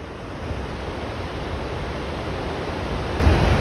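A waterfall on a foggy trek in Nepal gives off a steady, broadband rushing roar that stays even throughout and swells slightly louder near the end, with no voices.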